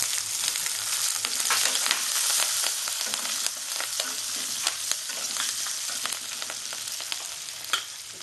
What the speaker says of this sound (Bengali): সুন্দর করে লাল লাল করে ভেজে নেব এবার এতে কোচানো লঙ্কাগুলো দিয়ে দেবো